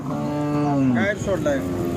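At a Khillar bull cattle market at the Pandharpur Maghi yatra, a bull gives a loud, close, drawn-out low moo that ends in a few shorter wavering calls, with crowd murmur underneath.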